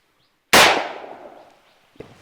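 A single loud rifle shot fired by Assam Rifles soldiers cracks sharply and rings out in a long fading echo, followed by a small faint knock, with no talking.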